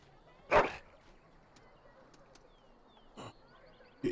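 A dog in Dragon Age: Origins gives a few short yelps and whimpers, spaced apart over quiet ambient background, the first burst loudest and the later ones fainter.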